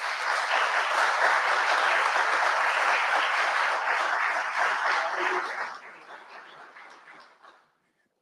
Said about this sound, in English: please give a big round of applause to Dedrick.